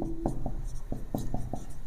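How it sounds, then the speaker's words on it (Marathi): Pen strokes as a sum is written by hand on paper during a maths lesson, giving short scratchy marks in quick bursts over a low background hum, with no talking. "मग इथं लिहितो मी बेरीज बरोबर"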